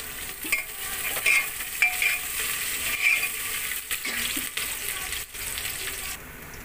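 Onion fries in a pan for tadka dal, a steady sizzle close by with the scrape and clatter of a spoon stirring through it.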